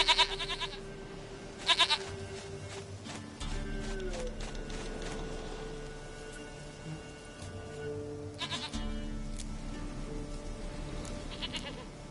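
Short goat bleats from a video game come in a few brief bursts, at the start and again later, over steady game background music and ambience.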